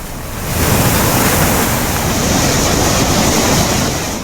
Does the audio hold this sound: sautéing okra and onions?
no